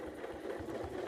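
A sewing machine runs in a steady continuous whir, close and even, while stitching an inside curve on a quilt guided by a quilting ruler.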